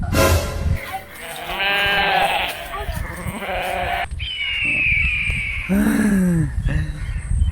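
Goats bleating in a village while grazing, several loud near calls of varied pitch over a few seconds, mixed with rustling and other background noise.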